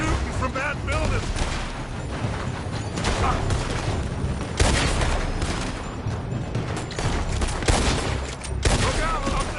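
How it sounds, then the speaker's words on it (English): Dense gunfire from a building, with continuous heavy shooting and crackling bursts layered over one another for the whole stretch, loud and steady, with voices mixed in. "They're shooting from that building."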